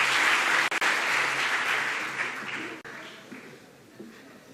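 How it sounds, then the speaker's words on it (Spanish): An audience at a science talk claps in a dense burst that slowly thins out and fades, with a couple of abrupt cuts in the sound. "Un aplauso para ella"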